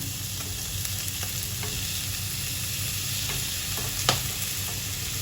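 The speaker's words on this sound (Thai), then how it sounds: "เราผัดกุ้งให้เขาสุกประมาณสัก เจ็ดสิบเปอร์เซ็นต์เราก็ใส่ ผักเลยค่ะ" Shrimp and vegetables sizzle steadily in a hot pan as they are stir-fried, with faint scrapes of stirring and one sharper clank, loud and close with no voices.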